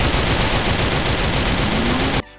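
Rapid automatic gunfire fired from a vehicle in GTA The Ballad of Gay Tony rattles loud and continuous for about two seconds, then cuts off abruptly.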